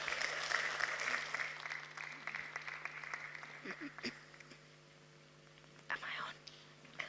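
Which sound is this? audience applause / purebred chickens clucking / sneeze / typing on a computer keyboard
audience applause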